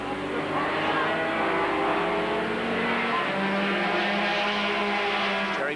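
Historic race cars, a Lotus 24 and a Talbot Largo, roar around the Montlhéry circuit near Paris, their engines a steady loud drone with shifting pitch as they pass, with no break for the whole stretch.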